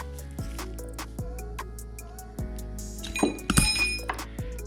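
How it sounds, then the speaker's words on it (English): Metal parts clink and tap repeatedly at close range as an old bearing is pulled from a Chevy LS 5.3 engine, with a sharper jangling rattle near the end. "Let's get this old bearing out."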